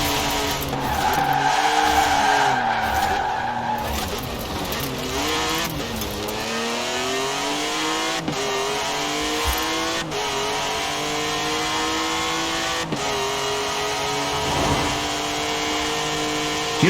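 Racing video game played with a Thrustmaster TMX force feedback wheel, a car engine revving and shifting through gears with sustained tire squeal through corners, steady and continuous with no talking.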